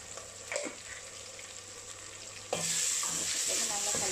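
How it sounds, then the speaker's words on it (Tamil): Spice powders (turmeric, garam masala and coriander) being stirred in a frying pan for mutton keema, a steady sizzle with a few scraping strokes that grows louder and brighter midway and carries on alone. "தூள் நல்லா கலக்கி விடுங்க"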